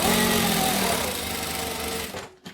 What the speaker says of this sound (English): we're just going to grab the lining and sew this down here